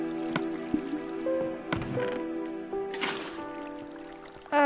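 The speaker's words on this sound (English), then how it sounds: "we got more water flowing through" Water flows in Minecraft survival mode with wet dripping and squishy splashing pops over a steady tonal game backdrop, ending in a sudden louder burst.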